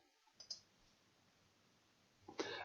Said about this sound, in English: and then you can click publish.